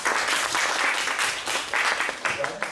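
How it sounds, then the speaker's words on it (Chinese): An audience claps to welcome a speaker at a lecture, a brief burst of moderate applause with uneven swells that then thins. "我们大家先用最热烈的掌声来欢迎王老师"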